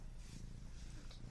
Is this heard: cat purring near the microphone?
yes